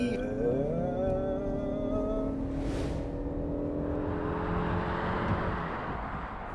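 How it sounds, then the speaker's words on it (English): A 2020 Ford Escape Hybrid accelerates at full throttle, its engine note rising steadily in a smooth whining drone, then settling into a broad road and wind rush, fairly close and with no talk. "And needless full throttle acceleration."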